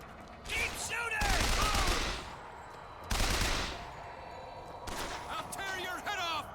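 Gunfire from the video game Bioshock Infinite, sounding in loud broadband bursts of shots and crackling around two main volleys, with game voices and effects woven through the mix.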